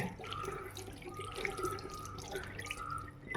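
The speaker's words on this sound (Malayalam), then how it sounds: "അത് കഴുകുക നല്ലതുപോലെ" Mangoes and green chillies being washed by hand under a running kitchen tap, a steady close splashing stream of water into a sink with no talking.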